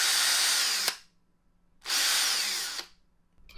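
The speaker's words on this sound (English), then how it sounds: "Listen again at the end how it goes, boom." A Ryobi cordless brushed drill whirs at high speed in two bursts, each ending with an abrupt stop and a short thump, separated by quiet pauses.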